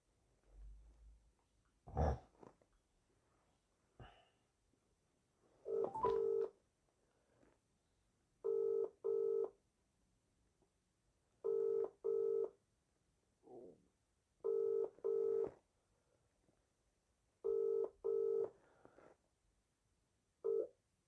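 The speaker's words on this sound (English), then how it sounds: "ringing up Christopher Browell" Pairs of electronic touch-tone beeps sound at a steady pace as a mobile phone number is keyed in, quiet and clear with near silence between presses.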